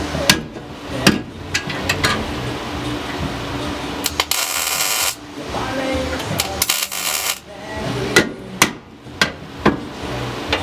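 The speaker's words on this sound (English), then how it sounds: "We'll hammer tack her in here and get her done real quick." A hammer tacking a freshly cut steel piece into place on cab mounts before welding, a series of sharp metallic strikes at irregular intervals, loud and close, with shop noise between them.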